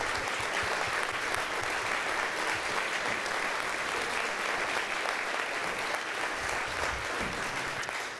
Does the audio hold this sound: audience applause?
yes